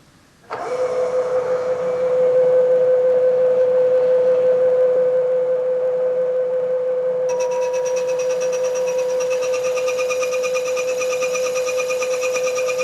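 Milling machine taking a light cut, about 20 thousandths deep, on a part clamped in a vise: a loud, steady motor whine and cutting hum starts abruptly and holds, turning brighter and more metallic partway through.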